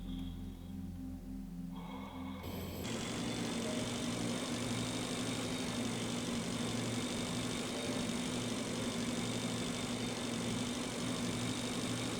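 Spaceship engines in the space survival game Breathedge rumble in a steady, loud mechanical drone with a persistent hum that switches on abruptly after a quieter opening and continues unchanged without any talk.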